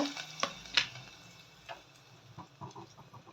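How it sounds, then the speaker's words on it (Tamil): Mustard and fenugreek seeds crackle and splutter in hot oil, giving faint, scattered pops and ticks over a soft sizzling hiss, close by and fairly quiet. "கடுகு பொரியட்டும் கடுகு நல்லா பொறிஞ்சிருச்சு வெந்தயம் போட்டுக்கலாம் வெந்தயம் நல்லா பொறிஞ்சிருச்சு"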